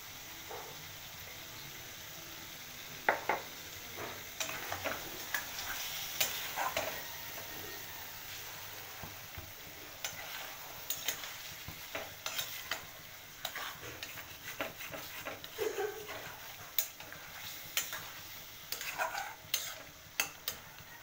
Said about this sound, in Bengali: তো মাংসটা ফার্স্টে কষাতে দিই।